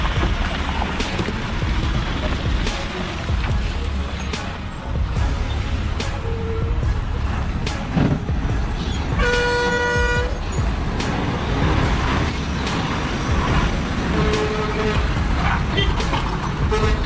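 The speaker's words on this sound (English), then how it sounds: "a massive Ashok Leyland 12-wheeler struggles to negotiate a challenging hairpin bend. The wheels bite the road, the engine roars" Ashok Leyland 12-wheeler truck working around a hairpin bend, its engine rumbling steadily up close while horns toot repeatedly and an air brake hisses amid the traffic.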